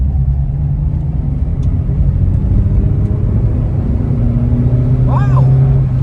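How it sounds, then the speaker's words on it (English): A classic car with a 1-litre engine pulls away in second gear at a car auction in Scotland, making a loud, steady low rumble throughout, with a brief faint chirp near the end. "Right, we've got the car in second gear."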